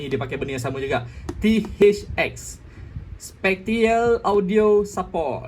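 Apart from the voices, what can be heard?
No everyday noises stand out.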